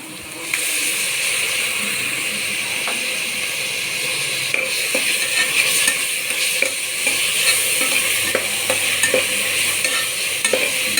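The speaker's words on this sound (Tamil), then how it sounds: "நல்லா வதங்கட்டும் வெங்காயம் நல்லா வதங்கிடுச்சு இஞ்சி பூண்டு இது போட்டுக்கலாம்" Onion, ginger and garlic sauté for a chicken curry, giving a loud, steady sizzle and hiss of frying in oil, with scattered scrapes and clicks of stirring in the pan throughout.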